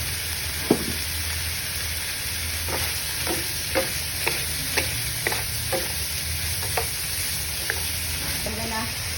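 Pork longanisa seasoned with black pepper and salt frying in a pan, a steady soft sizzle with repeated scraping stirs and small clicks of a utensil, close and moderately loud, no talking.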